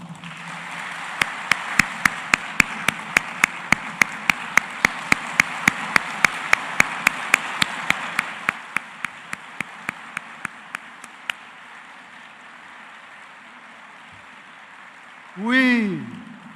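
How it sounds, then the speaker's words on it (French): Applause at a university graduation ceremony, a crowd clapping in a fairly steady rhythm that swells, then thins and fades out over several seconds, followed by a quiet room and a brief swooping tone at the end. "recevez, au-delà des applaudissements, un standing ovation de votre UNIFA"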